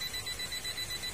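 An electrical voltage tester beeping on the live phase wire at a kWh meter breaker, a rapid pulsing electronic beep repeating steadily, close and alone with no speech.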